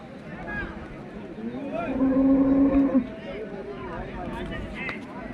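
A cow lets out a loud, drawn-out moo near the middle, with the murmur of a crowd and other livestock around it at a busy outdoor cattle market in Gadag.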